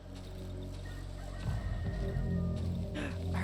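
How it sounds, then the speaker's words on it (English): A chicken clucks in the video game Darkwood, giving a few short, fowl-like calls over a low droning ambient hum that grows louder midway. "I heard a chicken."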